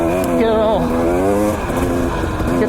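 Two-stroke carbureted dirt bike engine revving up and down on a trail ride near Rice Peak, Idaho, a loud close buzzing whine that climbs and drops in pitch several times.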